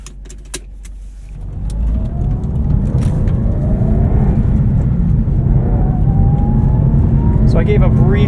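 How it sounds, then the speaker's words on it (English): Engine of a 2017 Subaru WRX STI with lifted rally suspension and stiffer mounts droning steadily from inside the cabin while driving, a loud continuous low rumble building after the first second, with brief clicks and a rising whine near the end. "Engine sounds great, a little bit more noise from a lot of those harder mounts."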